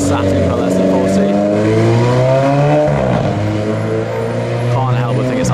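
Alfa Romeo 4C accelerating hard nearby, its engine note rising through the revs with a sharp break for an upshift midway, then climbing again, loud and close with a raspy edge.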